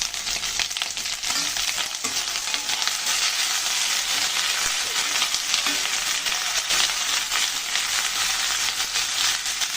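Cashew nut paste frying in a pan for mung dal with taro roots, a dense continuous sizzle with faint stirring scrapes, close and steady throughout, with no one speaking.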